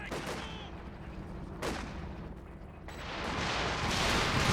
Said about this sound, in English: walking Stuka barrage